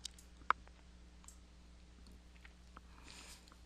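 A single sharp click to confirm a registration on an iPad, crisp and brief in an otherwise quiet room with low background hum and a few faint ticks.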